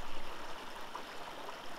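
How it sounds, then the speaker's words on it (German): Young Lech mountain stream tumbling over rocks, a dense, even rushing and gurgling of water heard close and fairly loud for a brief stretch. "Bereits der junge Lech ist ein beeindruckender Bach, der sich seinen Weg ins Tal sucht."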